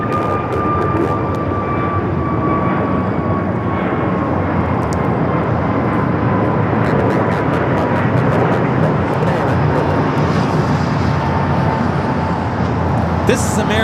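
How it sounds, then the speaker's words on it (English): An American Airlines A321 XLR airliner takes off at LAX, a loud sustained engine roar with a steady whine holding for the whole stretch, close and continuous. "American Airlines 307 taking off to JFK on the A321 XLR"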